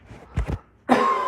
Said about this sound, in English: I had to cough real quick.